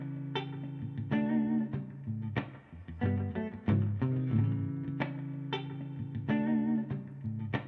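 A funky electric guitar loop runs through a Gristle King overdrive pedal, choppy rhythmic chord stabs and single-note fills repeating in a steady groove, moderately loud and alone without talk.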